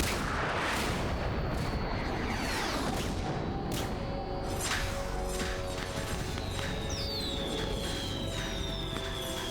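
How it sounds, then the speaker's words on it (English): Bombs exploding in the Metal Gear Solid 2 video game, a loud, continuous barrage of blasts and crashing debris with whistling tones sweeping through the roar. "That's a lot of bombs."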